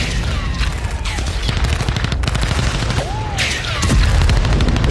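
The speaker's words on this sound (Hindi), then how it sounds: "बारूदी सुरंग के विस्फोट से टैंक को तबाह कर दिया गया।" A landmine explosion destroys a Russian tank in the Russia-Ukraine war: a loud, dense roar of booms and sharp cracking blasts that repeat without pause for the whole stretch, close and harsh, with no talking.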